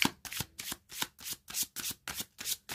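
Tarot cards being shuffled by hand in a riffling rhythm, about ten quick bursts of crisp fluttering close up, each followed by a soft tap.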